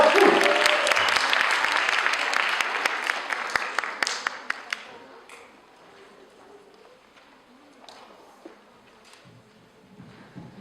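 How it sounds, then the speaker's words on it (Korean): A church congregation applauding, dense clapping that is loud at first and then thins out, giving way to quieter room noise and scattered claps over the last half. "박수하겠습니다"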